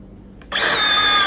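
Bharat multi-grip blind rivet being set with a power rivet tool: a faint click, then a sudden steady whirring mechanical whine that starts abruptly and holds close and loud, no talking.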